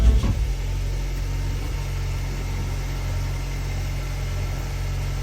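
A Range Rover Evoque engine idling just after starting, a steady low rumbling hum with a brief louder catch at the very start, then an even drone close to the car.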